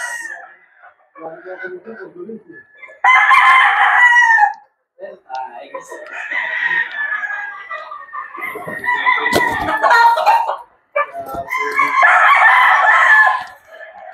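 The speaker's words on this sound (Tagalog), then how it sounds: "Ito pa yung isang pulit uli na Boston Roundhead. Napakagandang pulit." Boston Roundhead gamefowl chickens crow loudly and nearby in several long bursts, with clucking and short calls in the gaps between crows.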